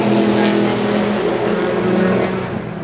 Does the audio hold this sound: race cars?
yes